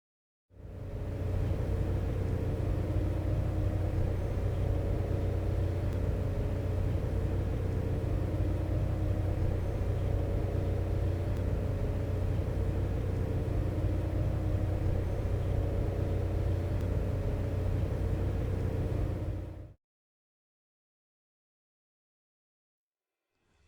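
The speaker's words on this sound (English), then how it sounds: "this is the Bloop at its original speed, which completely changes the way that it sounds" Bloop underwater sound recording played at original speed, a steady deep rumble with low droning tones that holds for about twenty seconds and then cuts off to silence.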